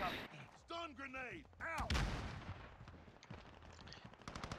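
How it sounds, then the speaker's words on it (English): A stun grenade goes off in Call of Duty Warzone: one sharp, loud bang near the middle, followed by fading game noise, with voices talking before it. "Stun grenade, out!"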